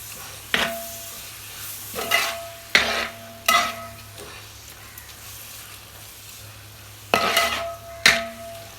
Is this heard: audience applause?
no